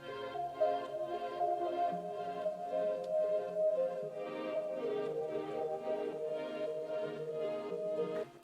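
A full chill hip-hop beat plays with layered synth chords, a reversed chord pad underneath and a steady pulsing rhythm, dense and even throughout with no talking.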